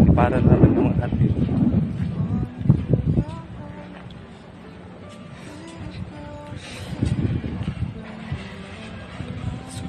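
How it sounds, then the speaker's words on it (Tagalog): Strong wind buffets the microphone with a rough, rumbling roar on top of a mountain-like sand dune while people talk throughout, gusts rising and falling. "Super hangin talaga siya."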